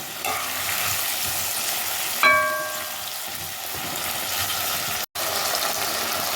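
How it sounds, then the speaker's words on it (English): Chicken back fries in a pot of Jamaican cooking as it is stirred with Maggi all-purpose seasoning, giving a constant close sizzle with one sharp metallic scrape partway through and a brief cut near the end. "Stir it well."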